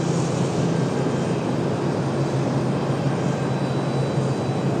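An Icelandair jet departs at night from Raleigh-Durham airport, its engine a steady, moderately loud roar with a low hum that holds constant throughout, with no voices.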